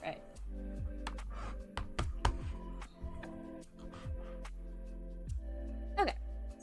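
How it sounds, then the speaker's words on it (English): Keys clatter on a computer keyboard in short irregular bursts while someone replies to a message during a drawing session, close and moderately loud over a steady low hum with faint breaths. "Just typing back to someone."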